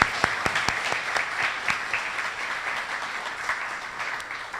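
Audience applause at an annual meeting, a dense steady wash of many hands clapping with a few sharp louder claps standing out near the start, sustained and fairly loud throughout.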